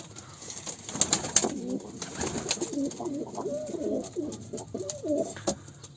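Pigeons coo softly inside a coop, overlapping rolling murmurs repeating steadily at close range, with a few light knocks and rustles, no talking.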